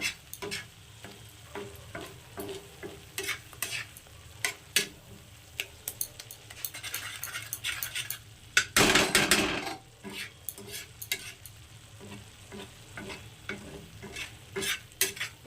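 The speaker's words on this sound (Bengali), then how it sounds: "এবার মশলাটাকে খুব ভালো করে কষিয়ে নেব" Spice paste of chili powder, turmeric and salt frying and being stirred in an oiled pan, a steady close sizzle broken by repeated sharp scraping strokes of a spatula and one louder burst of hissing midway.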